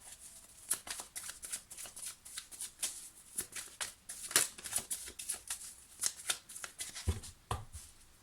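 Tarot cards riffled and cut by hand in steady papery flutters and soft slaps, close and fairly quiet, continuing without pause and with no talk.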